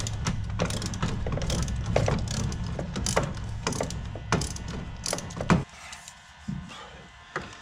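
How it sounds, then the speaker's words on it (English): Wrench working loose a transmission filter bolt on a 2008 Honda Civic: a close run of quick, uneven clicks and knocks, busy for about five seconds and then thinning to a few isolated clacks in near quiet. "I'm just gonna use the wrench and just break that loose"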